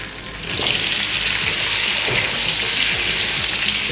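Lamb kofta meatballs frying in a hot pan, a steady loud sizzle that swells after a brief quieter start and carries on evenly, with small pops and crackles throughout.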